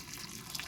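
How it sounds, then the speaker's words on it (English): Boiling water poured into a pot around upright stuffed peppers, a steady close splashing gush that fills the short moment without pause. "I just fill the boiling water in and around it"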